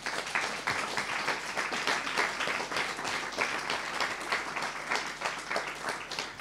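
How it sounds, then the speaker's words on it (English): An audience applauds steadily, a dense wash of many hands clapping at moderate volume without a break. "Everybody, give a round of applause to our speakers."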